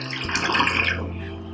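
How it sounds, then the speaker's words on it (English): Water pours into a pressure cooker with a steady splashing rush that peaks early and tapers off over about a second and a half. "Let's start with adding the water."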